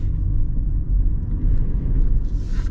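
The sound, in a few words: custom Toyota 4Runner accelerating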